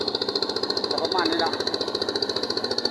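Rice milling machine engine running at a steady idle with a rapid rhythmic chugging and metallic whine, close and loud, while a person briefly talks over it.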